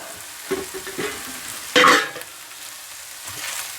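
Chorizo and softened onions crackle and scrape in a hot frying pan as they are stirred, with one louder burst of sizzle midway over a soft steady hiss.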